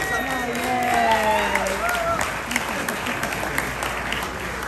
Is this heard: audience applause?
yes